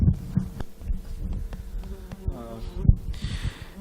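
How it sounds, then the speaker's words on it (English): Flies buzzing right up against the microphone, a close, wavering drone that swells and fades over a few seconds with low rumbling handling noise underneath. "Oh, the flies getting close to the mic."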